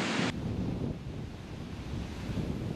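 Storm-driven surf and gusting wind roar steadily at the Pamet breach on the shore, with a short windy hiss at the start giving way to a dense, constant wash of breaking waves and rumbling wind buffeting the microphone.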